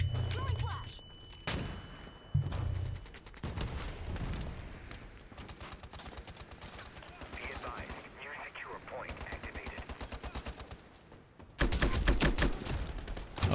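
An HK rifle fitted with a compensator in the shooter game Ironsight fires rapid automatic bursts, dense rattling strings of close shots separated by short pauses, with a few louder bursts and talking underneath.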